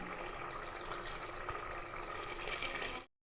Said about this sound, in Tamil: இப்போ நம்ம வந்து தண்ணி சேர்த்துக்க போகிறோம்